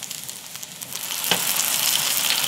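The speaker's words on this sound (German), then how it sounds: "Und das lasse ich jetzt einfach von alle Seiten anbraten." Beef roast searing in oil in a Dutch oven on a gas grill: a quiet start, then a loud, steady hiss of sizzling that holds to the end.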